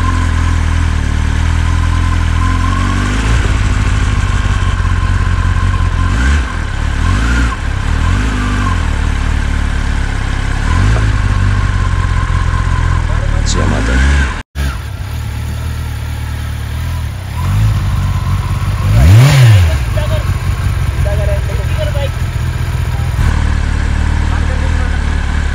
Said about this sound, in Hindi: फर्स्ट गियर पे डालता हूँ बाइक को.